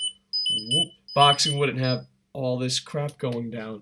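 A mobile phone rings with short, high electronic chirps at the start that keep sounding faintly beneath someone talking.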